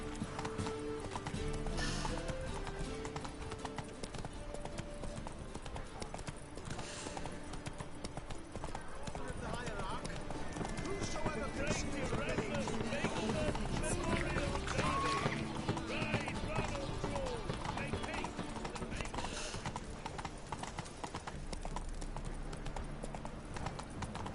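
Horse hooves clip-clop at a steady gallop in The Witcher 3, running continuously under game music while voices talk over it.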